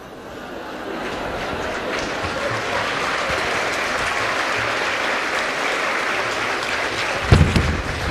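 An audience applauding at a Spiritist gathering, a dense, sustained wash of clapping that swells and holds loudly throughout, with no voices standing out.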